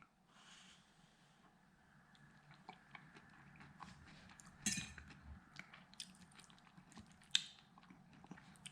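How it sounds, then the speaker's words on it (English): Close, quiet bites and chewing of stuffed flounder with seasoned stuffing, soft crunches and squishy mouth sounds with a few utensil clicks, no talking. "Let's have a little taste of some of this."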